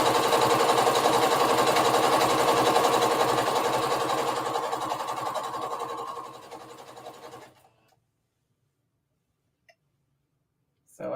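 A sewing machine stitches down stacked layers of a circle dress, whirring in a fast, steady run for several seconds, then slowing to a stop, followed by near silence and a couple of faint clicks.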